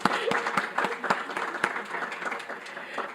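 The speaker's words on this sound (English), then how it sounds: "let's give Lizra a round of applause." A round of applause at a forum honours a woman named Lizra, with many hands clapping steadily and fairly close for about three seconds, a few sharper individual claps standing out, with no talking.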